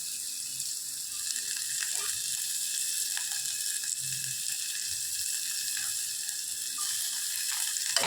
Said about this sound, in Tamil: இப்போ வந்து நல்லா வதக்கிக்கலாம்